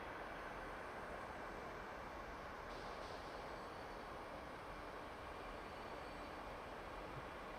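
Trains in the railway simulation game Transport Fever 2 run along the line with a soft, constant rolling rumble and hiss, faint and even in level, with no voices over it.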